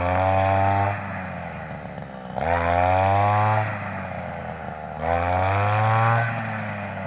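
A grass trimmer cuts grass in a rice field, its engine loud and close, surging up in three strong revving bursts about two and a half seconds apart and easing to a lower whine between them.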